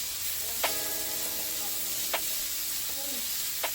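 Kale sizzles and hisses steadily as it wilts down in a hot pan for a turkey burger kale pasta, with a few soft stirring clicks over the constant frying noise.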